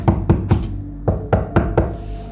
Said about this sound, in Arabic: في الليلة التالتة الخبط بقى أقوى وأعنف